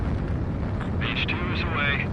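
A fighter jet takes off in the video game Ace Combat 7: a steady, loud engine roar throughout, with a radio-style voice talking over it.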